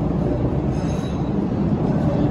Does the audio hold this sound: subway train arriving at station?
yes